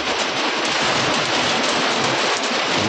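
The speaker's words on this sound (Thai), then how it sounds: "ฝนตกฝนมาอีกแล้ว" Rain falls steadily at a river mouth where someone is fishing, making a dense unbroken patter of drops that stays even throughout, with no voices.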